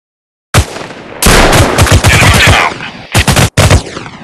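Gunfire from a mobile first-person shooter war game: loud close bursts of rapid automatic fire and single shots, broken by short pauses.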